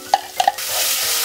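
Curry paste sizzling as it fries in a pot for Thai noodle soup, with a few short stirring scrapes at the start, then a steady close frying hiss.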